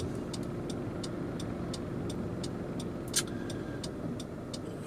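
Steady low road rumble and engine drone fill the cabin of a moving car, with faint repeated ticking and one brief sharp click partway through, and no talking.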